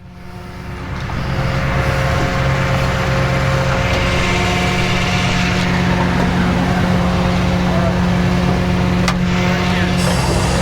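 A 1962 Chevy C60 truck is put in gear and driven off. The engine rises quickly to a loud, steady roar and holds it, close up, with no talking.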